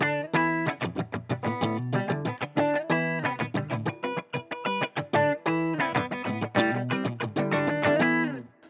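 Clean-channel electric guitar through a Line 6 Metallurgy amp, played as a steady run of bright picked chords and notes, close and clear with a short rhythmic attack, no voices.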